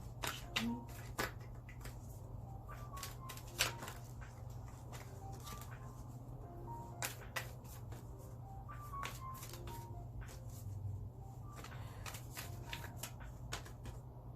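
Soft, intermittent riffling and tapping of oracle cards being shuffled by hand, close and quiet, with small pauses between bursts against a low background hum.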